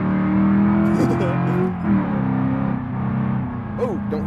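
A car engine in the BeamNG.drive driving game, cruising on a Deal's Gap street race, steady loud droning tone with shifting pitch as the revs change, and someone talking over it.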